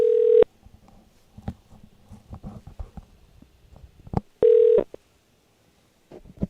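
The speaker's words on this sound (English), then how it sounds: "Isaiah, let's head over to that 0 Degree Creations phone and text line." A phone line on a radio call-in show gives two loud steady tones, one at the start and one near the end, separated by a stretch of faint clicks and soft handling noise.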